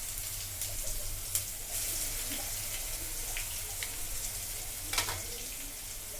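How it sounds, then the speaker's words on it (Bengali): Garlic paste fries lightly in a pan for Bengali bhetki malaikari, a steady close sizzle with a few sharper crackles and spits and no talk. "দিয়ে এটাকে হালকাভাবে একটু ভেজে নেব। রসুনটা হালকাভাবে ভাজা ভাজা করে নেব।"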